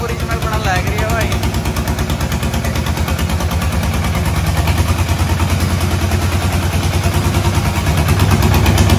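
Tractor engine running close by in rural India: a loud, steady, rhythmic diesel chugging that builds slightly toward the end, with no talk over it.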